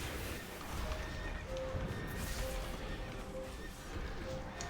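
Faint horse neighs and whinnies from the video game Conquest of Azeroth, a few short tonal calls rising out of a busy, noisy background of in-game action.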